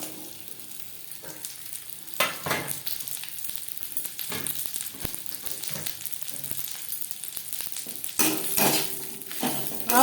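Mango pieces sizzle in hot oil with panch phoron and dried chilli while a spoon stirs them, steady frying hiss broken by several scraping, clattering strokes against the pan.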